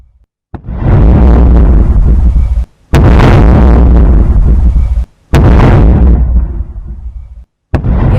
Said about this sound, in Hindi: ये धमाके की आवाज सुनिए। आईईडी को डिफ्यूज यहीं से किया गया है और ये उसी धमाके की आवाज।